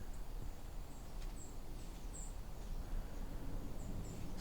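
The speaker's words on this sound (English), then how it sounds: "So most of those seep sounds are white-throated sparrows." White-throated sparrows give thin, high seep calls during autumn migration, several faint short notes scattered over a steady low rumble of outdoor background noise.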